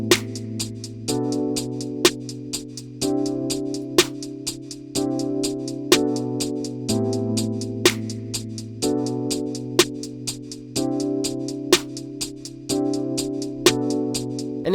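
A trap drum pattern with snare, clap and finger snap plays by itself over looping synth chords and bass, sharp hits landing at a steady rhythm with regular accented strikes.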